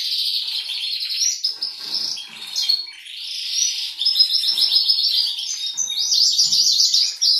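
Canaries chirp and twitter continuously in bright, rapid trills, several calls overlapping up close with no talking.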